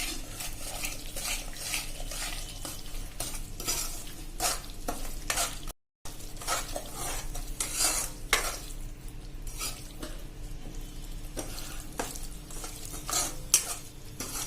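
A sugar and ghee mixture being stirred in a pan on a gas stove, with repeated scraping strokes of a utensil against the pan over a soft bubbling fry. The strokes come close and fairly quiet, with no voices.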